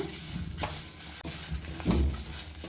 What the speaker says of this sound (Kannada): ನೋಡಿ ಚೆನ್ನಾಗಿ ಒಳ್ಳೆ ಆರೋಮ ಬರೋ ತನಕ ಎಲ್ಲ ಇಂಗ್ರೀಡಿಯೆಂಟ್ಸ್ ಕ್ರಿಸ್ಪಿ ಆಗೋ ತನಕ ಹುರಿದ್ಕೋಬೇಕು